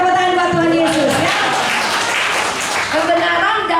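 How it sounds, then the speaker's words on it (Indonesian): A church congregation bursts into applause for about two seconds, a broad wash of clapping that rises over ongoing speech and music, then fades back under the voice. "Beri tepuk tangan buat Tuhan Yesus ya"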